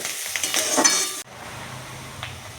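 Ten to twelve garlic cloves hit hot oil in a kadhai with chopped onions, giving a bright, loud sizzle that drops abruptly to a softer, steady frying hiss.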